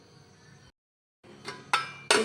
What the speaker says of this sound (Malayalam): കുക്കറിൻ്റെ അടപ്പ് ഇട്ട് കൊടുക്കാം.